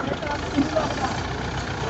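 Steady low engine rumble of an idling Fiat 640 tractor, close by, with people talking over it.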